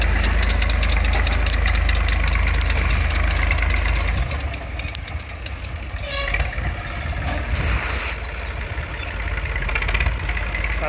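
A tractor engine runs continuously while sowing corn in a field, loud and close, a steady mechanical drone with rattling that eases slightly partway through.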